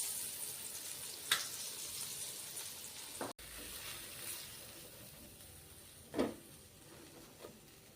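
Burger pieces crisp in hot oil with a steady, moderately quiet sizzle and fine crackle, punctuated by a few sharper pops and clinks of the pan.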